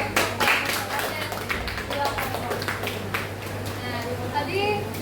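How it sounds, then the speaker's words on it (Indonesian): Students clapping together in a classroom during a group guidance session on peer etiquette, a run of brisk sharp claps near the listener with voices talking over it. "Oke, aplaus dulu."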